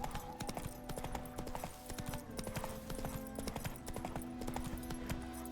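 Roach's hooves in The Witcher 3, a quick steady clip-clop of a horse moving, close and continuous, with a faint musical drone underneath.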